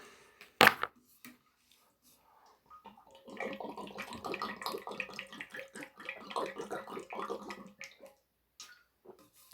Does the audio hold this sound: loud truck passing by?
no